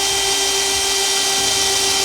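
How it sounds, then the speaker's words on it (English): A power drill with a 1/4 inch bit drilling holes in steel on a Ford Transit whines steadily at high speed throughout, a constant loud motor tone without pause. "Now we're just gonna take a 1/4 inch drill and put some holes in those locations."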